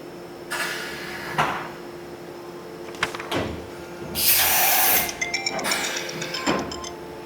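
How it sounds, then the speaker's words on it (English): DMG Mori NHX 5000 four-axis horizontal machining center with a 60-tool automatic changer: door sliding open, then sharp mechanical clunks, whirring and metallic clatter of a simulated tool change, close and fairly loud with no talk. "Right now we're going to simulate a tool change."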